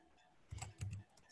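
Typing on a computer keyboard while entering a search topic into a research database: a short burst of a few soft, close clicks in a quiet room, with no voices.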